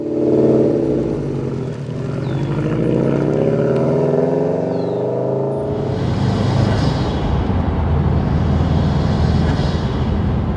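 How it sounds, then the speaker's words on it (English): A Subaru WRX STI with an aftermarket exhaust and intake rumbles loudly and continuously, a deep throbbing engine note that shifts into a rougher revving pitch partway through, close to the microphone. "From that Subi rumble coming out of my aftermarket exhaust, all the way to those sweet induction noises from my intake"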